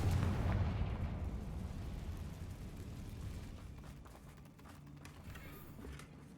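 A Confringo fire spell in Hogwarts Legacy detonates at the start with a loud, low boom, then a rumbling explosive roar decays over several seconds into fainter crackling game noise.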